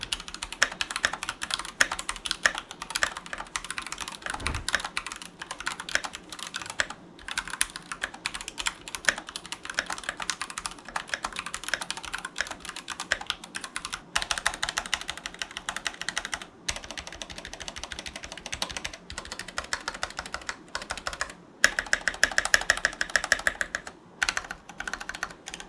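Typing on a stock KEMOVE61 wireless 60% keyboard with Gateron Silver switches: rapid, continuous, fairly quiet key clacks in a steady flurry, heard close up with no voices.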